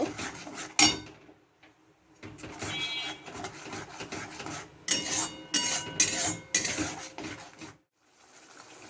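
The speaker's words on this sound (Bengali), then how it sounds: "টমেটোটা যতক্ষণ না কাঁচা গন্ধটা যাচ্ছে আমি নাড়িয়ে যাব" Ground tomato paste being stirred in a cooking pan for doi katla fish curry, a spoon clattering and scraping against metal in irregular bursts with brief quiet gaps, close and moderately loud.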